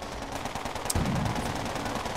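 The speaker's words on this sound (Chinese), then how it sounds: "一挺机枪可能不够，我们在这里再放一挺机枪" Machine-gun fire from the Toy Soldiers British Campaign video game, a steady stream of rapid shots holding at an even level, with a sharper burst near the middle and no talking.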